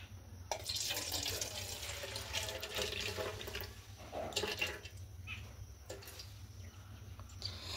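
Soaking water poured off a bowl of washed masoor lentils, a steady splashing stream running into a sink for several seconds, fairly close, with a faint tap-like hiss and no talk.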